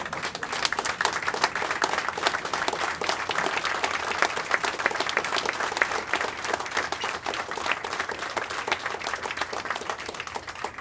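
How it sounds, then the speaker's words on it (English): An audience at a veterans' base meeting claps steadily and loudly for about eleven seconds, a dense, even wash of applause from a roomful of people with no talk over it. "Round of applause for these kids."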